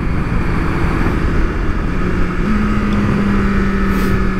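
2022 BMW S1000RR superbike accelerating on a freeway, a loud steady engine drone with rising pitch through the gears, mixed with heavy wind rush, continuous and close throughout.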